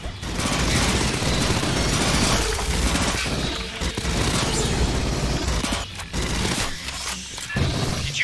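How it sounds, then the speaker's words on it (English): Dense bursts of gunfire and booming explosions from combat against alien bugs in the co-op shooter Aliens: Fireteam Elite, loud and nearly continuous with brief lulls. "Did you hear explosions just now?"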